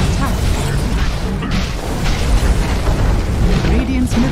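Barracks collapsing in a Dota 2 Ability Draft match: a continuous dense rumble of crashing and booming destruction noise, loud and sustained throughout, with game announcer speech layered over it.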